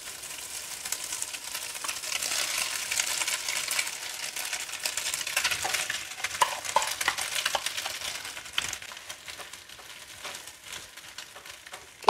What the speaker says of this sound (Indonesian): Setelah kekuningan seperti ini, kita masukkan telur asin.